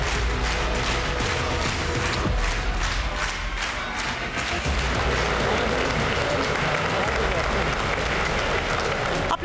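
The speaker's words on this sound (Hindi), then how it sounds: "तालियां लगातार बजती रही" Lawmakers in Israel's parliament give PM Modi a sustained, dense round of applause that rolls on steadily throughout, loud and unbroken, with a faint murmur of the crowd.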